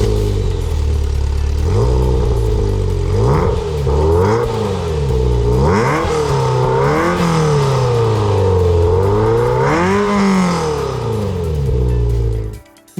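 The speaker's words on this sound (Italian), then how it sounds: "La prima cosa da menzionare è di certo il motore" Ferrari 348 with a 3.4-litre V8 of 300 horsepower, revving repeatedly as it accelerates and shifts, pitch rising and falling in waves, loud and close for over twelve seconds before cutting off abruptly.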